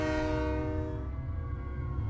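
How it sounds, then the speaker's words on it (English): A loud train horn blares as a train passes and hits the player in a video game, the sustained blast fading over about two seconds above heavy low rumbling. "I think I did get hit by a train."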